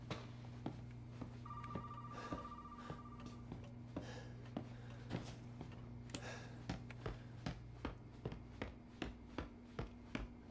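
A telephone rings in a video game, a repeated electronic trill over a low hum, joined by a series of sharp taps that grow more regular toward the end; no one speaks.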